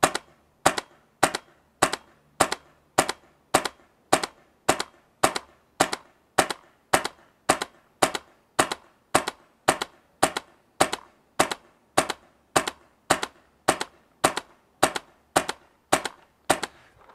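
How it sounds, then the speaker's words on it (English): Tippmann Phenom paintball marker with its stock bolt firing about 30 sharp, evenly spaced shots through a chronograph, each a loud crisp crack with a short decay, in a steady rhythm of roughly two per second. "we're going to shoot 30 shots through the chronograph to get our stock velocity"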